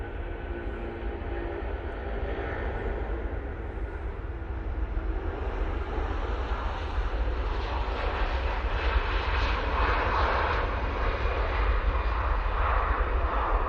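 An airplane takes off from Manchester Airport bound for Faro, its jet roar building steadily and growing louder and fuller at a moderate distance, with no talking.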